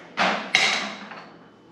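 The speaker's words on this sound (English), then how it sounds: "I'll take a drift and a hammer and just give it a tap." Two sharp metallic taps of a hammer striking a drift on a King 2.5 triple bypass shock shaft, close and distinct, each ringing briefly before fading.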